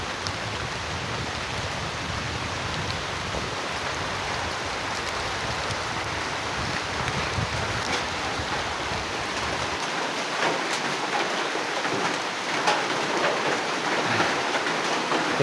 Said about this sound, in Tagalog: Ulan na. Umuulan na.